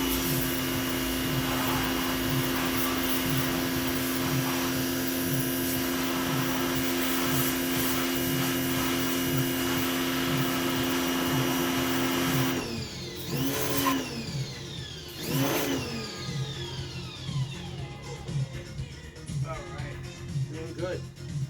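A pressure washer blasts grease from the engine bay of a 4x4 Camaro, a loud, steady whining hiss that abruptly shifts midway into rising and falling sweeps as the spray moves around.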